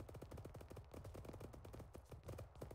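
Rapid automatic gunfire from the military video game Arma 3 rattles in dense, continuous bursts of shots, fairly quiet and somewhat distant.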